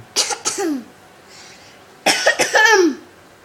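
Two bursts of coughing, each a quick pair of harsh coughs, close by, separated by a short quiet pause.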